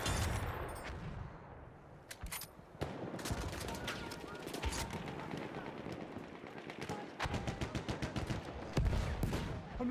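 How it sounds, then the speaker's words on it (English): Enemy machine gun fire in the World War I shooter Battlefield 1 rattles in rapid bursts through a dense game battle soundscape, growing louder and more sustained toward the end. "machine gun. One of theirs."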